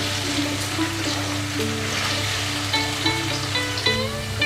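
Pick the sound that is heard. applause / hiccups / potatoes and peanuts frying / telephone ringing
potatoes and peanuts frying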